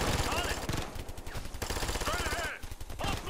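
Gunfire in the co-op shooter Ghost Recon: Future Soldier: rapid, repeated shots crackle steadily through the clip beneath excited talking from players.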